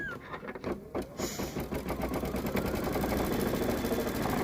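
An embroidery machine stitches a placement line on a shamrock coaster in the hoop, starting with a few separate needle strikes and settling into a steady, rapid mechanical chatter that grows slightly louder and continues to the end.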